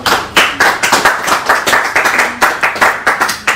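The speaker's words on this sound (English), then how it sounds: "Clap for her, please." Audience at a donation event claps in a sustained round of applause, sharp rapid hand claps overlapping in an irregular rhythm, loud and close throughout.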